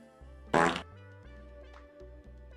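A fart sound effect fires off as a stream donation alert, one loud, brassy burst lasting about a quarter second, set against steady background game music.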